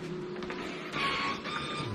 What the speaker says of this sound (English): This is the fourth one from the label printer.